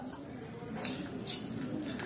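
Pigeons coo softly nearby, low murmuring calls repeating over a steady background hum, with a faint chirp or two.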